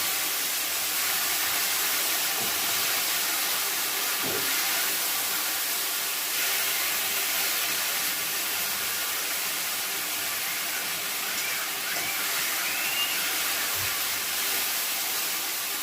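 Potatoes with parsley and garlic frying in a pan give off a steady, even sizzle, a constant hiss with a few faint clicks of stirring and no talk.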